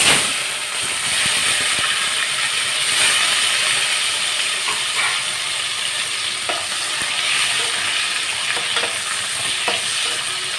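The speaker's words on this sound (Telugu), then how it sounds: "ఇప్పుడు మనం ఇందులో ఎండ్రాయిలు వేసుకుందాం" Dried prawns frying in hot oil in a pan, a continuous bright sizzle with scattered crackles and pops, steady and close, with no voices over it.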